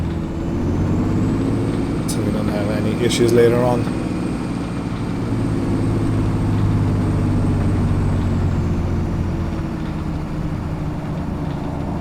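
A video game tractor engine idles with a steady low rumble and hum throughout, while someone talks over it.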